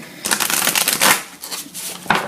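Oracle cards being shuffled by hand for a tarot reading: a run of quick, papery riffling bursts up close, pausing briefly before a last short flurry, with no talking.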